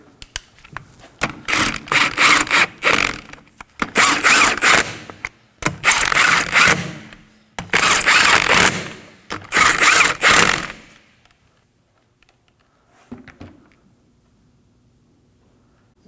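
A ratchet snugs the wheel nuts on a Kia Optima during rear parking brake shoe replacement, with five bursts of rapid, close clicking separated by short pauses, then a faint clunk and quiet.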